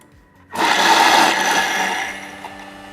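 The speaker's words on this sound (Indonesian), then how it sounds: "Saya akan chop lagi. Speed 8. 5 detik, lebih juga gak apa-apa." Food processor set to speed 8 chopping kitchen spices and aromatics, a close, loud whirring roar that kicks in abruptly after a short pause and runs steadily for a few seconds, slowly easing off.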